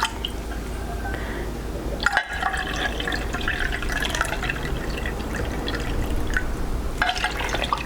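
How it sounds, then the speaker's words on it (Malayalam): Water poured into a measuring cup while making pink semiya payasam, a steady splashing trickle running through most of the stretch, close and moderately loud, with a brief clunk partway. "ഇത് ഞാനൊന്ന് മെഷറിംഗ് കപ്പിൽ നോക്കട്ടെ കേട്ടോ എന്തോരം വെള്ളം ഉണ്ടെന്ന്."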